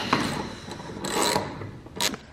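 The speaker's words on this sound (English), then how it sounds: "I'm taking off this ignition module for the SR" Handwork on a Nissan SR20 engine as its ignition module is removed: a few short scraping and rubbing bursts of metal parts and tools, close and moderately loud, with quiet pauses between them.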